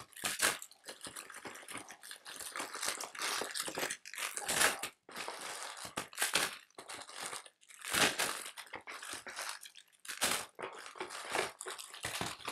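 Spam singles and crackers are packed into a food bag with a Velcro seal, giving bursts of close crinkling and rustling plastic packaging in irregular handling bursts.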